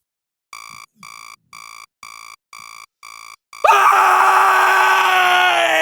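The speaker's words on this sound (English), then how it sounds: "when I wake up in the morning, I have a habit of screaming before I do anything else" A series of seven evenly spaced electronic alarm beeps gives way to a sudden, loud, sustained human scream as a morning habit, harsh and close, continuing to the end.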